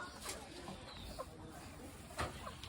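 Village chickens cluck and call in short, scattered bursts close by. A few brief louder squawks stand out, with faint background noise and a hint of a voice.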